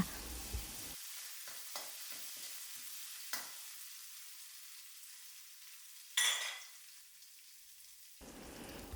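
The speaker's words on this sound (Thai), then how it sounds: "จากนั้นใส่เครื่องผัดที่เราตำไว้เมื่อสักครู่นะคะ ผัดไปเรื่อยๆนะคะ" Pounded spice paste drops into hot oil and is stir-fried, a soft steady sizzle with light scraping strokes rising into a sudden loud crackling burst near the end before settling again.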